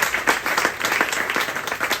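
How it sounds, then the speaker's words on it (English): A short burst of audience applause after a talk on making nature pay, close and fairly dense clapping with a slightly uneven, pulsing texture. "Round of applause, please."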